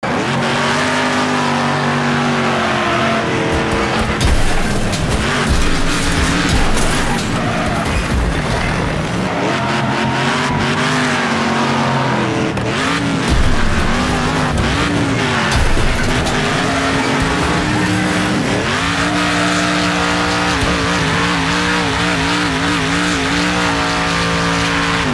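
Cars race and crash in the demolition-derby video game Wreckfest, with loud, continuous engine roars, shifting revs, tire squeals and skids, and repeated impacts throughout.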